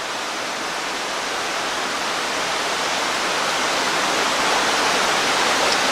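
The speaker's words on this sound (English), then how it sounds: "The waterfall is really flowing." A waterfall near a cabin pours with a strong flow. Its dense, steady rushing hiss sits close and loud, grows slightly louder toward the end, and carries no voices.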